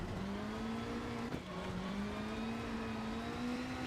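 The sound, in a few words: Mitsubishi rally car engine from a video game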